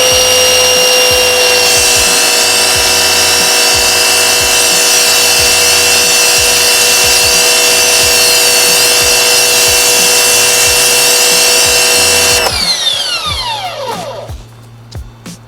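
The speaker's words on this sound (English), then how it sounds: "Bought me a little electric power washer." Small electric power washer spraying Simple Green on an abandoned drift car, a steady high motor whine with a rhythmic pulsing underneath for about twelve seconds, then it stops and winds down.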